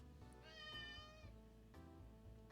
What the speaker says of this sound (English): I hear cat trying to get at the door.